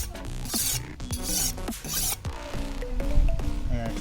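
A kitchen knife is drawn across a sharpening stone in rhythmic rasping strokes, close and moderately loud, with a few brief hisses of grit between passes.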